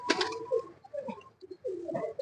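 Pigeons coo softly on a rooftop loft, giving a few low, burbling calls in short phrases with gaps between them, faint and alone.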